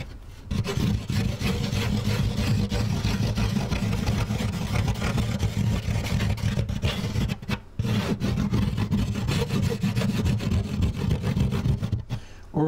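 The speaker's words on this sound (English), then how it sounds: "Might also be able to make a sound from scraping it with my fingernail." Fingernail scraping across a panel of a DIY guitar isolation cabinet, a continuous close rasping scrape with a few short pauses, heard alone.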